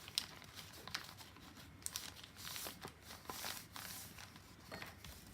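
Paper is folded over by hand while making a handmade book, giving soft crinkling and rustling with a few sharper crackles, quiet and close, with no speech.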